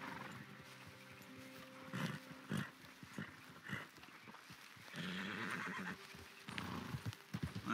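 Horses in Red Dead Redemption 2 whinny and snort over uneven hoofbeats, heard faintly and fairly close, with a few louder bursts as the animals move and call.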